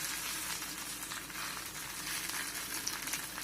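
Breaded vegetable cutlets fry in oil in a pan on a stove, giving a steady, even sizzle with a soft crackle that holds at one level throughout, close up and alone.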